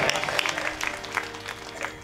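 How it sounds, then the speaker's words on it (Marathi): Audience applause rises at a kirtan during a Harinam Saptah religious gathering, a short burst of scattered claps at moderate volume with a faint background murmur. "टाळी वाजली पाहिजे"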